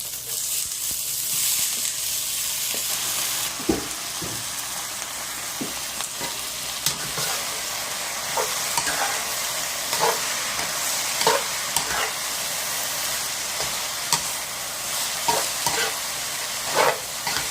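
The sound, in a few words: shredded potatoes being stir-fried in a wok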